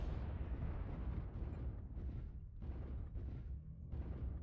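A missile strike explodes in a video game, a sustained, thundering roar of booms and rumbling blasts that rolls on continuously at high volume with no talking.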